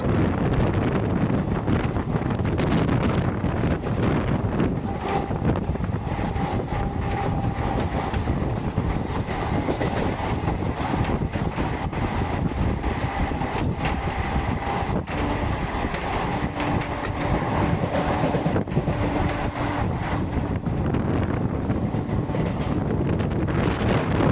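A Howrah to Bardhaman galloping local train running nonstop past Konnagar station, a loud continuous rumble and rattle of carriages with heavy wind buffeting the microphone throughout.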